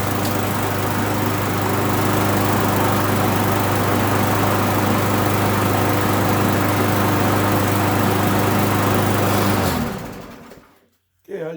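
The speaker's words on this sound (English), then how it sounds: "that's a 10-year-old Murray lawnmower with the Briggs & Stratton engine on it" A 10-year-old Murray lawnmower with a Briggs & Stratton engine runs loud and steady with a constant buzzing drone, then cuts off abruptly near the end, leaving brief quiet before another short noise.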